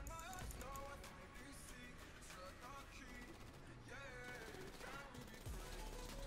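A hacked Unholy Hellbringer gun fires in GTA 5 as dense rapid bursts under a busy, loud mix of game sound and voices.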